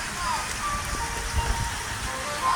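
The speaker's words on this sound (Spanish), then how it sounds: "Mira cómo cae el agüita." Steady rain falling in Ingenio, Junín, a soft continuous patter of drops on surfaces heard up close, with faint background sounds and no clear talk.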